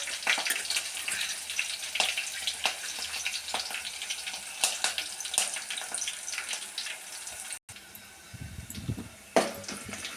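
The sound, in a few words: dried red chillies and green chillies frying in a pan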